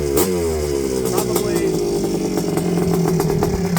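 A Honda TRX250R ATV with a custom piston runs steadily at close range, a loud continuous engine drone with crisp exhaust pulses and a few sharp blips of throttle.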